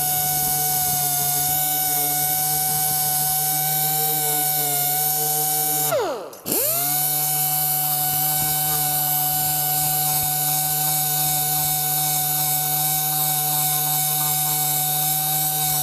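A 1200-grit sanding disc on a power tool works the pitted mating surface of a Mercedes M113 engine oil cooler, a steady close high-pitched whine that dips briefly midway as the tool slows, then returns to full speed.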